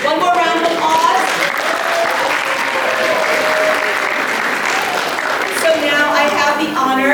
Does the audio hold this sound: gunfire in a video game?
no